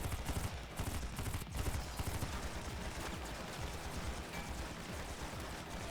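Rapid rifle gunfire from a firefight in the video game AI: The Somnium Files, dense and loud bursts at first that settle into a steady rattling din, with no talk over it.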